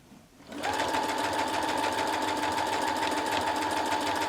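A sewing machine runs steadily as it stitches a line across a piece of spare fabric, starting up after a brief quiet moment and then humming at an even, fairly loud pace with a rapid mechanical chatter.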